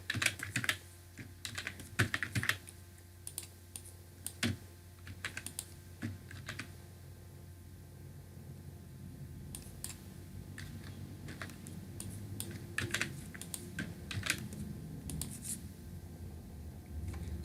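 Password being typed on a computer keyboard, a run of quick, irregular key clicks, close and fairly quiet, with bursts and short pauses over a low steady hum and no talking.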